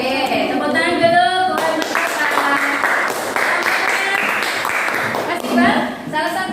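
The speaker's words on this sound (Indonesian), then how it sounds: "Oke, tepuk tangan dulu." Children clap together in a fifth-grade primary school classroom during a coding and AI lesson, a dense burst of hand claps sustained for several seconds with voices mixed in throughout.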